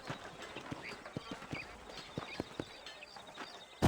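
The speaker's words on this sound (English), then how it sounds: "These are fine horses." Horse hooves clip-clop in Red Dead Redemption, a loose, uneven series of soft hoof strikes of varying loudness at middle distance, with no talking.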